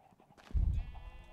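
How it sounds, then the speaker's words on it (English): A sheep in the Minecraft video game gives a single short bleat that swells loud for a moment, then trails off into a low game background. "I will get you, sheep."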